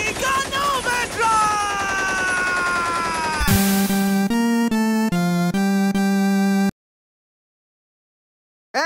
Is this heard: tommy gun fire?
yes